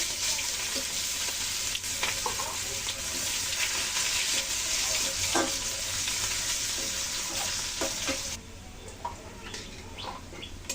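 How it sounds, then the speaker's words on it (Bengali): Hot mustard oil sizzles and crackles steadily in a wok as dried red chillies, bay leaves and cumin fry, with occasional stirring clinks and faint birdsong in the background. "কড়াইতে তেল দিয়েছি, খুব গরম হয়েছে। এখন ফোড়নে দিয়ে দিচ্ছি শুকনো লঙ্কা, তেজপাতা, জিরা।"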